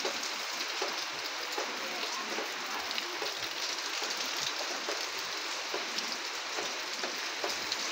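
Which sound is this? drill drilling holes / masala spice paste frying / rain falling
rain falling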